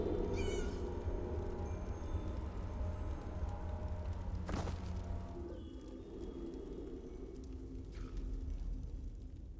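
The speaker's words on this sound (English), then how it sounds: "That's a cat." A cat meows in a fantasy role-playing game, a few short cries standing out over a continuous low ambient drone, with a sharper burst midway and faint background activity, no talking.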